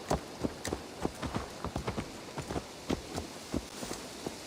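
Steady clip-clop of horse hooves in Assassin's Creed Valhalla, a regular rhythm of sharp knocks at moderate level, with no talking.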